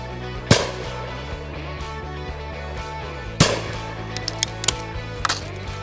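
A Miroku MK60 High Pheasant shotgun fires two loud, sharp reports about three seconds apart. Lighter clicks and clacks from handling the gun follow near the end.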